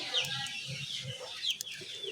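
Several chickens cluck close by in short, uneven bursts, with a few sharper squawks mixed in; no one speaks.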